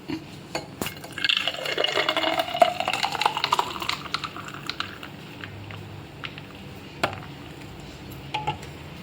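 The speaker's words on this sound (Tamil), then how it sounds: "இந்த மோரை விட்டுடலாம்." Liquid pours steadily into a glass with a rising gurgle, ice clinking sharply a few times, close by and fairly clear with no talking.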